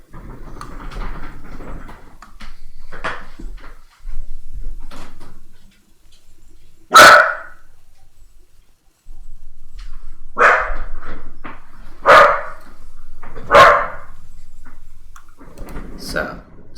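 A pet dog barks in a home during a game session: several loud, sharp barks spaced a few seconds apart, with quiet speech and room noise between them.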